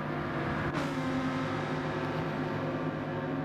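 A Gulf-liveried Lamborghini race car in Gran Turismo 7 at Sardegna, its engine holding a steady, loud droning note with layered harmonics and a brief sharp transient early on.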